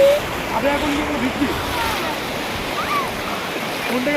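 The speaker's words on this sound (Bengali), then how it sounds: "ফাইনালি সমুদ্র চলে এসেছি।" Steady wash of ocean surf rolling onto the beach at Digha, a continuous broadband rush with wind, while people talk faintly in the background.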